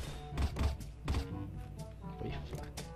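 Knife attack in Counter-Strike during a match: a few sharp thuds and slashing hits land amid busy, steady game noise, close and fairly loud.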